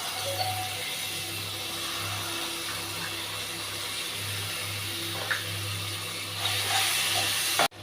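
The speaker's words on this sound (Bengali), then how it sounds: "দেখো কিভাবে ভেজে নিচ্ছি টমেটো পেস্টটাকে" Tomato paste frying with ground cumin and other ground spices in a pan for dahi bagun, a steady close hiss and sizzle that runs without a break and swells slightly near the end, with no talking.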